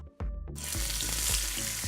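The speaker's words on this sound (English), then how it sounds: "If your chicken is hitting the skillet and you're not hearing that sizzle, you've got an issue." Chicken hits a hot skillet and bursts into a loud, steady sizzle, a close crackling hiss that continues under light background music.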